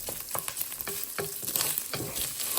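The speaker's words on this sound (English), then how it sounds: "there's something so oddly satisfying about cooking these little bits of ham like this" Small bits of ham frying in a pan, with a steady close sizzle and crackle running throughout and soft stirring scrapes rising and falling above it, no voices.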